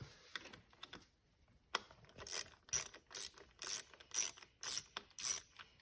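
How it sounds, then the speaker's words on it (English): A ratchet wrench with a 27-bit removes small Torx screws holding engine ignition coils, giving a run of eight or so rapid clicking bursts in steady rhythm, close and fairly loud, with no talk. "I'm gonna take out these 2 little Torx screws, and that'll allow me to pop the coils out."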